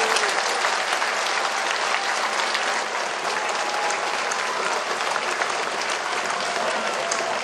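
A large outdoor crowd applauds at a 75th-anniversary liberation celebration in Staphorst and Rouveen, Netherlands, producing dense, continuous clapping that holds at a steady loud level throughout.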